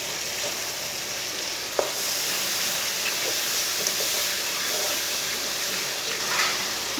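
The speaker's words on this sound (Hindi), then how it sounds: "दाल डाल के 2 मिनट तक भून लेंगे।" Boiled chana dal frying and being stirred in a pan with spices, giving a steady close sizzle with occasional soft scrapes and clicks of the spoon, no voices.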